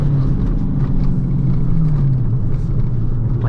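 A manual Dodge Challenger Shaker accelerates with a deep, loud, continuous engine rumble. Its pitch climbs and then dips as it pulls, and no one speaks over it.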